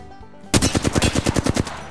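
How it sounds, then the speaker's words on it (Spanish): A rapid burst of automatic gunfire in the Apex Legends video game, about a dozen sharp, loud shots in quick succession after a brief quiet start. "unos pequeños disparos"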